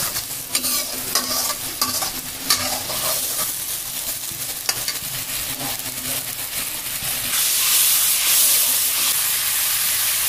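Small river fish such as ritha or chapila dropped into hot oil for a bhuna, a loud close sizzle that swells into a strong steady hiss, with scattered clatter at the start and no talking.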